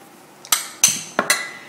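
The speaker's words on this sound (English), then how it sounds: "in the saucepan I'm going to put some butter, 140 grams of butter" Four sharp clinks of a solid lump of butter, 140 grams, dropped into a metal saucepan, spaced at irregular intervals with a short ringing decay after each, close by and without talk.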